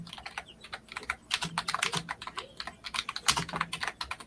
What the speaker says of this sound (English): my loud keyboard is being like broadcasted to the mic